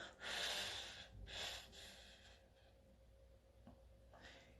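Forced exhalation during a breathing exercise, a strong breathy push of air followed by a second shorter burst, then quieter breathing, close and unaccompanied by speech.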